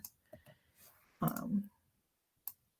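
Computer keyboard typing during an online class, a brief run of soft key clicks followed by a louder cluster of clacks, then a single click after a pause, close to the microphone with no voice.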